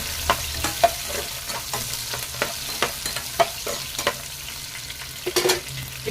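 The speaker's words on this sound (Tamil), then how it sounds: "நல்லா வதக்கிடுங்க." Small shallots and garlic cloves sautéing in oil in a pan for a hotel-style brinjal kuzhambu, a steady sizzle broken by repeated sharp scrapes and taps of stirring.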